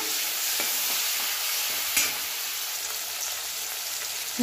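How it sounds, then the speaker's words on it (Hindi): Onion and tomato fry in hot oil in a close, continuous bright sizzle, with a few soft stirring clicks and one sharper scrape partway through. "एबे सही तेल रे पियाज दे दबा, बिलाती दे दबा, याको अल्प भाजी नबा"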